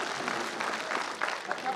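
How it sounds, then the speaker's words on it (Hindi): An audience at a Hindi humour and satire poetry gathering claps for a poet in a brief, steady wash of applause, with a voice speaking over it. "आप एक बार यहां से लेकर वहां तक जितने भी हैं, प्यार भरी तालियां"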